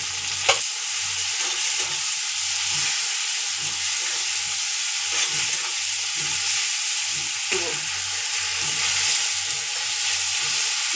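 Ginger, cumin and chilli paste fries in hot oil for egg curry, a loud continuous sizzle with regular spatula strokes scraping and stirring throughout, nobody speaking.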